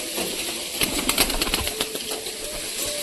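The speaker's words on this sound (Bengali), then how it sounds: "খোপটা তো ছেড়ে দিলাম, এক এক করে সব কবুতর বেরোবে" Pigeons released from their coop flutter out, with bursts of wing flapping and clattering in quick irregular clusters, close by, over a steady background hiss.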